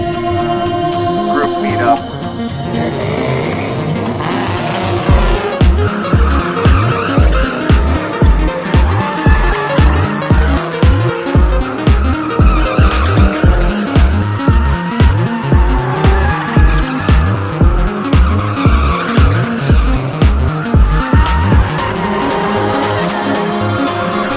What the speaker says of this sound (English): cars that are doing donuts